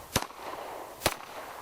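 Two sharp, muffled reports from a K7 suppressed submachine gun, spaced about a second apart, each a brief broadband crack over a quiet background.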